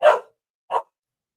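A dog barks twice, a sharp bark followed after a short pause by a softer second one, close by in an otherwise quiet room.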